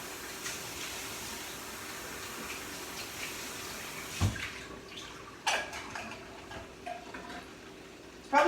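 Water splashes and runs as a tomato sauce can is rinsed out at a kitchen sink, a steady close hiss of flow with a few sharp clanks and knocks of the container against the basin.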